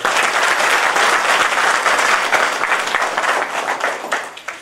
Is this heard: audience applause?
yes